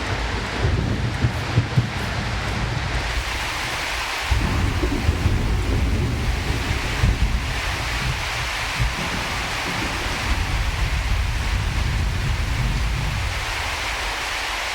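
Rain pours in a dense steady hiss inside the video game Prologue: Go Wayback!, with deep rolling thunder rumbling through, swelling strongly around the middle and fading back under the downpour.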